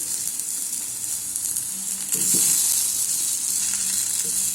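Fish sizzling steadily in a pan with only a couple of millilitres of oil, a continuous close frying hiss that swells louder partway through, with faint clinks and no voices.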